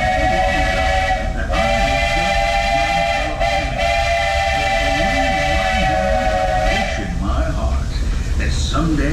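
A train at Disney World's Magic Kingdom sounds its steam whistle in long sustained blasts over rumbling wheels, with a voice talking throughout.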